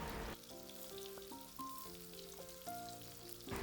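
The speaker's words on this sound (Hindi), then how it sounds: "तो कबाबों को मैंने इस तरह से अलट पलट करते हुए कर लिया है फ्राई" Kebabs fry in oil in a pan for Iftar cooking, a steady close sizzle running throughout while sustained tonal music plays over it, with no voices.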